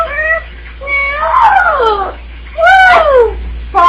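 A pet bird imitates a cat's meow, giving several drawn-out, wavering meow-like calls separated by short pauses, loud and close with no talk over them.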